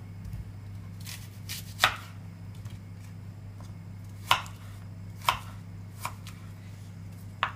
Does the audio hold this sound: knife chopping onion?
yes